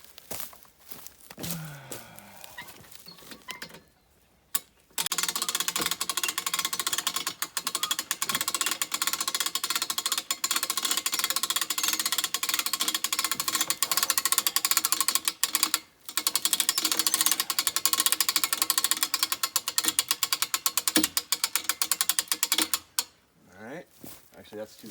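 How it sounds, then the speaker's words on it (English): A winch drags a wild boar carcass upward in a long, steady mechanical whir with a dense ratcheting rattle, pausing briefly midway before running on, with a short burst of talk near the start. "we winch it"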